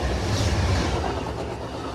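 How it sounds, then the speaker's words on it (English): An Amtrak passenger train rumbles past close by, a broad steady roar with faint rhythmic rattling of rail cars. "we must once again pull aside to let an Amtrak train pass"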